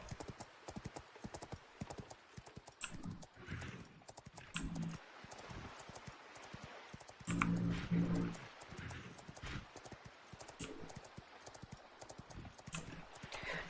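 Horse hooves clip-clop in the online game Astellia as a mount trots through a dungeon, a quiet, brisk, steady rhythm of light hoofbeats with a faint whinny partway through.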